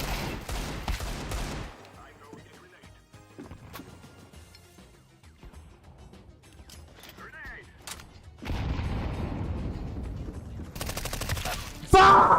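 Shooter video game gunfire in rapid automatic bursts, loud at the start and again near the end with a quieter stretch of scattered shots between, under other game sounds.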